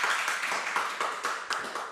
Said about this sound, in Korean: 우리 박수로 모시겠습니다.